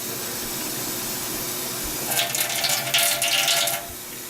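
Water from a one-cup measure is poured into boxed white cake mix batter for a rainbow cake, a steady splashing pour of about two seconds that starts midway, moderately loud and alone.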